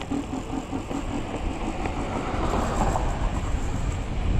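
A Jetson Bolt Pro (DYU D3) electric scooter ridden with an upgraded 1000W motor and 35A controller makes a steady, droning mechanical whir that swells slightly louder toward the end, with no voices.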